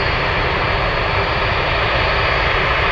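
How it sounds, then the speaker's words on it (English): An aircraft takes off from runway 33 at Anchorage, a loud, sustained engine roar that holds steady and dominates throughout, with no voices over it. "We have takeoffs on the 3-3."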